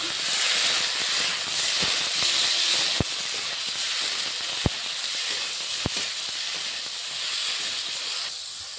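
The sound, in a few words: fish, potato and spices being sautéed in a pan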